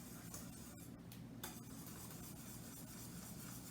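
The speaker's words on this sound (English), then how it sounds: "So I'm pouring in the chocolate chips and stirring." A spoon stirs chocolate chips into warm pudding in a pan just taken off the stove, making faint, close, continuous scraping and swishing with a few soft clicks against the pan, and no talking.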